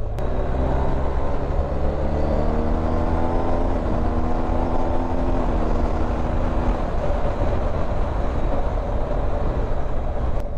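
A BMW R1250 GS HP motorcycle being ridden on an organized ride, with a steady engine drone and rising and falling tones as it shifts through gears, mixed with wind rush and no speech.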